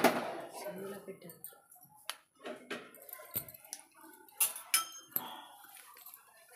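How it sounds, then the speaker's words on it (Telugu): A cooking pot is set down on a stove to fry mustard and fenugreek seeds for mango pickle, with clattering knocks of metal cookware and clinks of utensils scattered across the moment and someone talking in between. "మనం ఇప్పుడు ఆవాలు మెంతులు అనేది ఫ్రై చేసుకోవాలి కాబట్టి గిన్నె పెట్టాను"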